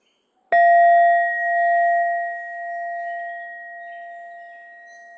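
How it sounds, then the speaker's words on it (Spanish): A single meditation bell is struck once to open a seated meditation, ringing out with a sharp attack and then a long, clear sustained tone that slowly fades, heard alone with no talking. "Voy a sonar la campana una vez para comenzar la meditación sentada"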